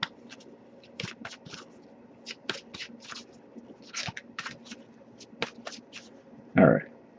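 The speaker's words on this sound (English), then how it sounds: "But we'll give it a few more shuffles," Quiet riffling bursts of a deck of cards being shuffled repeatedly, close up, with a louder thump near the end.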